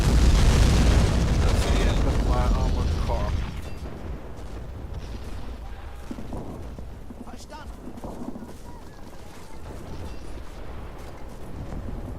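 Naval artillery explosions in the war game Men of War open with a heavy, roaring boom lasting about three seconds, then fade into a lower rumbling battle backdrop with scattered distant bursts and faint voices.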